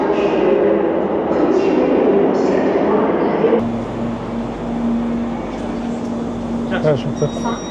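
Almaty metro train at Jibek Zholy station, a loud steady rumble and hum that eases into a quieter drone with a sustained tone, plus brief squeals near the end.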